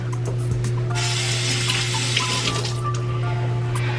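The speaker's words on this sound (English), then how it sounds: "So I had to just rinse my hands off." Water runs steadily from a kitchen tap as lemon juice is rinsed off hands. The stream gives a continuous close splashing hiss over a low electrical hum, with no talking.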